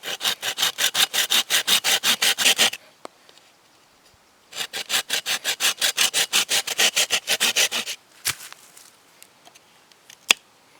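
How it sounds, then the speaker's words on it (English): A folding saw cutting deep slots into bamboo in two quick runs of rhythmic back-and-forth strokes, each lasting a few seconds, close and crisp, followed by a few sharp knocks and clicks in near silence. "I'm going to cut these slots with a folding saw, make nice deep cuts"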